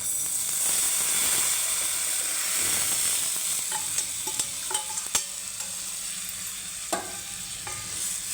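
Cooked toor dal goes into a hot tempering for varan and sizzles with a loud, steady frying hiss, followed by sharp clinks and scrapes of a spoon stirring in the pan.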